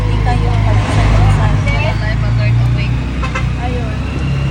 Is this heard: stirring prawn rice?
no